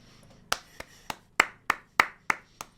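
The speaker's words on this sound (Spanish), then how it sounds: "Fuerte aplauso para los de Maranello." Eight sharp hand claps at an uneven, deliberate pace, close and fairly loud, each a crisp isolated slap against a quiet background with no voices.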